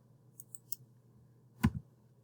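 A computer mouse click: one sharp, close click with a quick second tap, preceded by a few faint ticks in a quiet room, with no speech.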